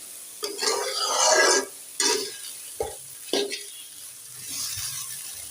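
Flat beans and potatoes frying in a pan with a few separate bursts of stirring and sizzling, loud at first and then in shorter scrapes, with a faint low hum underneath.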